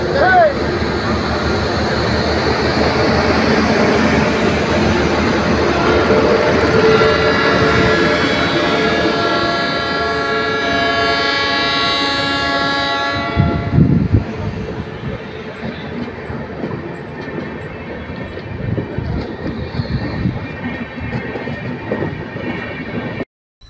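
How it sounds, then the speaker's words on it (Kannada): Chennai–Shivamogga express train departing at an inaugural ceremony: a loud, continuous rumble with a long sustained horn blast in the middle, then fading rolling noise beneath crowd sounds. "ಚೆನ್ನೈ ಶಿವಮೊಗ್ಗ ಎಕ್ಸ್ಪ್ರೆಸ್ ಟ್ರೈನ್ ಏನು ಇವತ್ತು ಬಿಡ್ತಾ ಇದ್ದಾರೆ"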